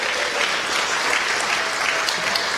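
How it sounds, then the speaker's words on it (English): An audience at an Alpha Chi honor society induction ceremony applauds steadily, a dense, even clatter of many hands filling the room without pause or talk. "keep clapping"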